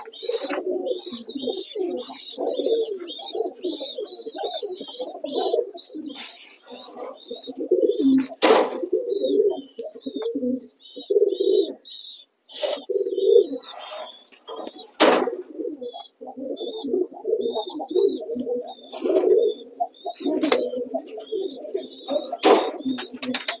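Domestic pigeons cooing in a loft: a steady, overlapping chorus of low throaty coos with scattered sharp chirps and a few brief wing flaps, close and continuous throughout.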